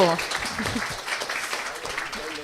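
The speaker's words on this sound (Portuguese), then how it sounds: "Uma salva de palmas dos convidados, é claro." A round of applause for guests at a literary talk event, brief clapping from an audience that starts loud and tapers, with voices mixed in.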